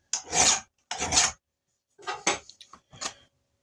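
Sander grinding down a casting burr on a molded ball peen hammer head: four short, close rasping bursts of abrasive scraping separated by brief silences, the last two choppier and shorter.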